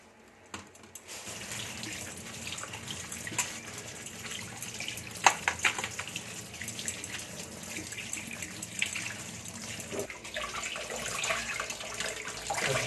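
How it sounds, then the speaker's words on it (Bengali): Tap water running steadily over chicken being washed, a continuous hiss and splash with small knocks and bumps throughout, moderately close and fairly quiet. "চিকেন হবে চিকেন হিসাবে ভালো করে ধুয়ে নেওয়া হচ্ছে"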